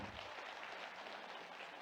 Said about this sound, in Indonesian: tepuk tangan buat teman-teman dari Solo